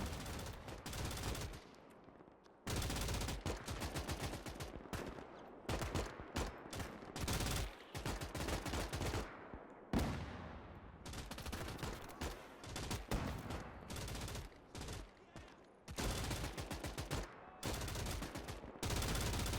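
Sustained battle noise from the Gates of Hell war game set in a ruined Berlin, dense rifle and machine-gun fire mixed with grenade blasts, near and continuous with brief lulls.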